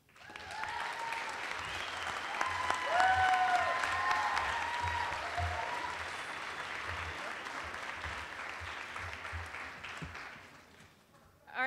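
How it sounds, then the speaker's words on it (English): A medical school Match Day crowd at UVM breaks into sustained applause, dense clapping mixed with cheers and whoops, swelling early, then tapering off near the end. "So one more big round of applause for class of 2011."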